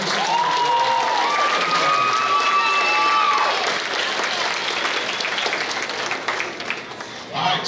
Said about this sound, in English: So if we just give our teachers one round of applause,